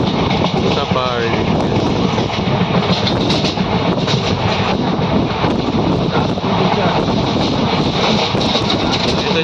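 A moving train near Navi Mumbai with a steady, loud rumble of rail wheels, some clickety-clack and wind buffeting, continuous throughout from close on board, with voices faintly under it.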